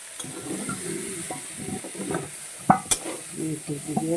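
Cauliflower frying in hot oil in a pan, a bubbling sizzle under soft stirring, with a couple of sharp clinks of a utensil against the pan near the end.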